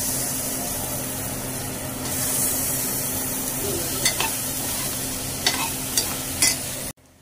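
Sliced ivy gourd (tendli) sizzles hard in a hot pan while a spoon stirs it, giving a loud, steady fry with several sharp scraping clatters near the end before it cuts off abruptly.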